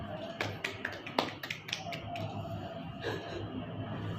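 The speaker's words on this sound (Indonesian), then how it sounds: "Tepuk tangan." Children clap their hands at a dawn Ramadan gathering in a few scattered, irregular sharp claps over a soft background murmur, fading out in the second half.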